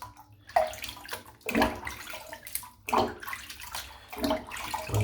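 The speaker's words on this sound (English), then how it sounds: "Rinse the soap out." Water running from a tap splashes in uneven bursts as shaving soap is rinsed out, with the flow rising and falling about four times, close and moderately quiet.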